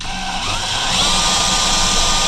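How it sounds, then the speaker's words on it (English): Power drill driving a self-tapping screw into a Chevrolet Suburban body while installing lights, a steady close whine that rises slightly in pitch and loudness over about two seconds. "I've got the first hole drilled and tapped with a self-tapping screw. Now we just got to do the second one."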